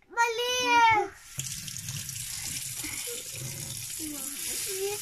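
Tap water runs steadily into a kitchen sink while children wash dishes on kitchen duty, a voice babbling over the start before the flow continues alone.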